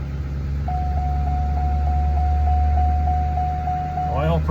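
A retired transit bus sits idling just after starting, with a steady low engine rumble. A high warning tone beeps steadily on top of it for several seconds before cutting off.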